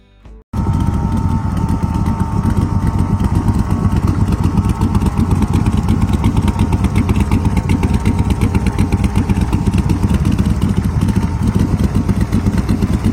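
Odd custom vehicle built from a 1952 International starts up and settles into a steady, loud, close engine run with a rapid, even chugging pulse for the rest of the clip.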